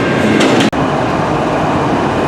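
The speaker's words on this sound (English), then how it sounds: "This is CN train 834 heading eastbound" CN freight train 834 rolling eastbound through New Westminster, a steady loud rumble of rail cars filling the whole moment with one brief dropout.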